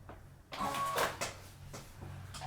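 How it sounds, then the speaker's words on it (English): A sewing machine runs a single line of stitching down one side of a fabric quick project, giving a short burst of mechanical whirring and clatter over a low background hum. "I'm just going to stitch this side down. I'm just going to do a single stitch."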